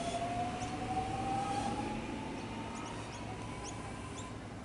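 A Melbourne suburban train pulls away from Riversdale station, a faint steady rumble with a thin high whine sliding down in pitch, moderately distant and alone with no talk.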